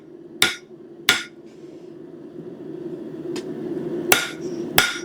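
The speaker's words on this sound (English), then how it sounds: "you kind of have to true it up on the face of the anvil" Hot steel struck with a hammer on the face of an anvil while truing up press-drawn bolt tongs: four sharp, ringing blows spaced irregularly over a steady low workshop hum, with one lighter tap between them.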